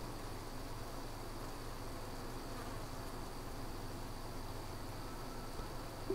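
A yellow jacket wasp grappling with honeybees at a hive, a steady close insect buzz and hum that holds without pause, with no voices.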